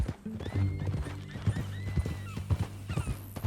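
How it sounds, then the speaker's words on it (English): Horse in Red Dead Redemption 2 whinnying over a steady clip-clop of hooves, loud and close, with the neigh rising and falling across the short stretch and no talk. "That a new horse?"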